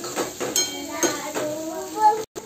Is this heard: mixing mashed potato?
yes